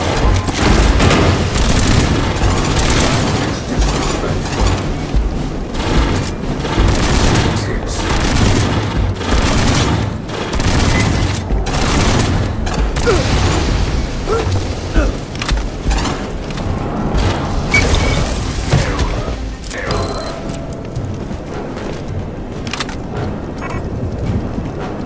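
Continuous heavy combat in Aliens: Fireteam Elite, with booming grenade blasts and rattling gunfire, stays loud and dense throughout, thinning toward the end, while a voice speaks over the chaos.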